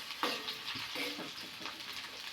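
Onions being sautéed in a pan on low flame give a soft, steady sizzle with gentle stirring scrapes, quiet and close, with no talking.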